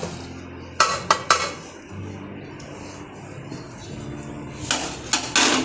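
Ragi laddu mixture with ground peanuts, cardamom powder, almonds and pistachios being mixed in a bowl: a few sharp utensil clinks against the bowl near the start and again near the end, with soft scraping in between.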